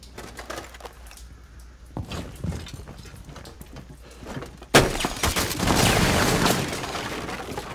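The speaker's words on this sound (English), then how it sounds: "Oh my god, Tachanka's still there. How is that gun not dead?" In Rainbow Six Siege, Tachanka's mounted gun fires in rapid bursts: sharp cracks scattered through the first half, then a loud, dense stretch of sustained gunfire near the end, with no voices over it.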